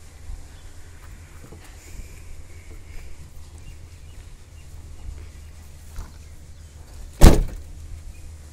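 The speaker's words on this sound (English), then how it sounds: "Let's close this door." A single sharp, loud slam as the door of a Toyota Qualis van is shut, coming near the end after quiet ambient noise.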